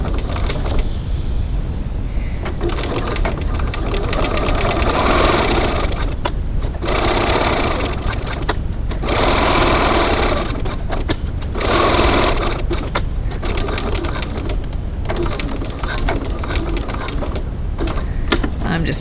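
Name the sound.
sewing machine back tacking a wallet seam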